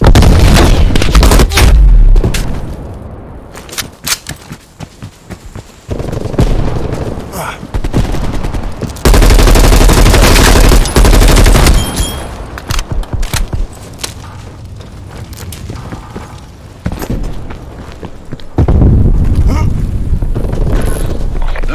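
Grenade explosions and rapid gunfire from a Black Ops Cold War multiplayer Domination match, with loud booms, dense bursts of automatic fire and near-continuous battle noise, plus occasional brief in-game voice callouts.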